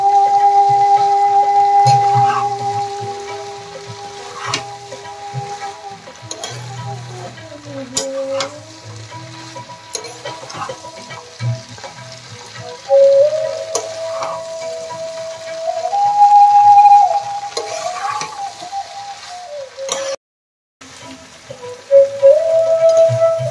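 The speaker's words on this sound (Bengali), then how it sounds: "মটরগুলোকে সুন্দর করে একটু কষিয়ে নিতে হবে।" Boiled peas stir-fried in rendered mutton fat for ghugni, sizzling and crackling close up with repeated spatula scraping and stirring, the sizzle rising and falling with a brief pause near the end.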